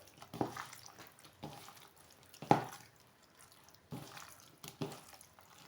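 Water splashing and dripping in a sink as beef tripe is rinsed clean, with intermittent bursts of running water and spatter separated by quieter pauses, close by and moderately loud, no talking.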